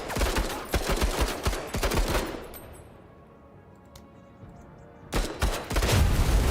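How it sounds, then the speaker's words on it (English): Rapid bursts of gunfire in the tactics video game Menace, loud and dense at first, dropping to a quiet lull, then resuming with heavy shots near the end. "Let's just see if we can shoot this and take it out."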